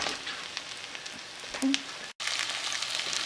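New York strip steak or smashed potatoes sizzle steadily in olive oil as they are flipped in a pan, a continuous close crackle with a brief clatter and one short break.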